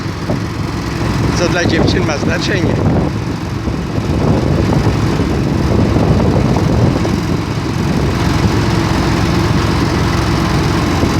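A long-shaft boat motor drones steadily throughout, loud and close, on the Vistula River at Góra Kalwaria, with a person speaking briefly over the engine noise.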